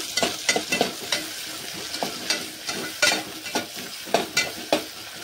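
A spoon stirs yellow masala khichdi with tomato and fresh coriander in a frying pan, giving a run of close, sharp scraping strokes at a fairly steady rhythm over a soft sizzle.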